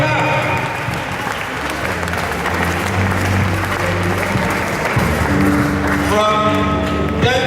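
Church congregation clapping hands during a worship service, loud sustained applause mixed with music and voices throughout, with singing or a sung tone rising near the end.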